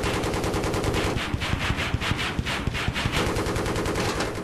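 Rapid helicopter cannon fire from a Battlefield 3 gunship strafes in a loud, sustained burst of bursts, sharp shots rattling rhythmically throughout with no speech.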